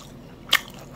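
A single short, wet bite into horse mackerel sushi with wasabi, a brief close crunchy squish standing out against a quiet background.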